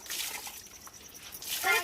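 Water is poured over a small child during a bath at home, with close splashing trickles that rise into a louder splash at the end, and voices in the background.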